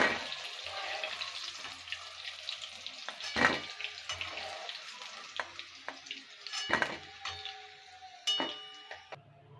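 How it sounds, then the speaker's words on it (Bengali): Chicken fries in a pan with a steady, close sizzle and crackle, broken by a few sharp clinks and stirring scrapes, with no voices. "চিকেনটা ভাজা হয়ে গেলে তুলে নেবো"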